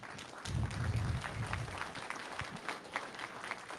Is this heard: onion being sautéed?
no